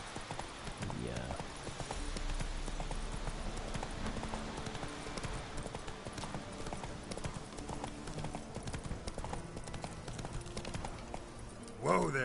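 Geralt's horse Roach gallops in Witcher 3, hooves pounding in a fast, steady clip-clop rhythm that runs throughout, with someone talking over it.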